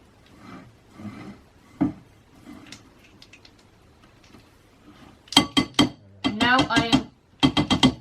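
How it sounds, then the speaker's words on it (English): A spatula scrapes around the sides of a flour bowl and then a mixing bowl while making a gluten-, lactose- and yeast-free sponge cake, giving soft scuffs followed by sharp repeated scraping strokes and clinks close by. "I'm just going to scrape around the sides of my flour bowl. And the sides of my mixing bowl."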